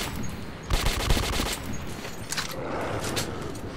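Gunfire in the Metro 2033 video game: rapid bursts of automatic shots, close and loud, a longer burst followed by a few shorter ones over a dim background rumble.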